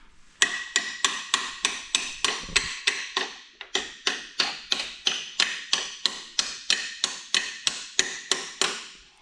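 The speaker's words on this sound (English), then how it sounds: "Big hammer for such a little job?" A small hammer taps steadily on a Chevy K10 truck during gas tank reinstallation, around twenty quick metallic strikes in an even rhythm, close and clear with no talking.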